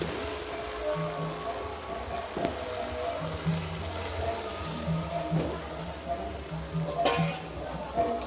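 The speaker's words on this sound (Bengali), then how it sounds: "এবার আমি আলু মটরটা যে সেদ্ধ করে রেখেছিলাম সেই আলু মটরটা দিয়ে দেবো" Boiled potatoes and peas drop into spiced paste frying in released oil for vegetarian ghugni, giving a steady soft sizzle and crackle with faint clinks of a utensil, no talk.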